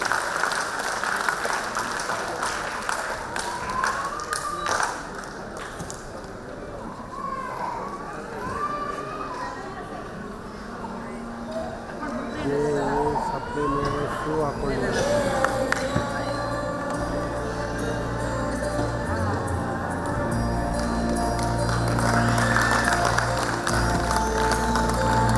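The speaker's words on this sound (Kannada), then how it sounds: "ನಿಮ್ಮ ಜೋರಾದ ಒಂದು ಚಪ್ಪಾಳೆಯ ಕರತನ ವೇದಿಕೆಗೆ ಸಮರ್ಪಣೆಗೊಳ್ಳಲಿ." An audience at a Karnataka teachers' award ceremony claps through a long, sustained round of applause, with a voice speaking over the start and music joining in later.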